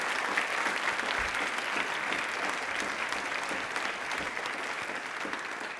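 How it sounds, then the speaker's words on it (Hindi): Sustained applause from a studio audience on a Rajasthani television quiz program, a dense, steady wash of many hands clapping at even loudness throughout, with no voices on top. "एक बार तालियां प्लीज जोरदार होनी चाहिए बाबा साहब के लिए।"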